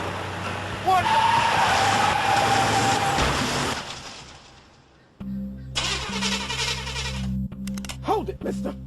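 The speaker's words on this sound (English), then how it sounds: "that sounds like an intentional hit and run" A car engine revs and speeds away in a hit-and-run scene from a film, loud at first and then fading out, followed by voices and other sounds from the scene.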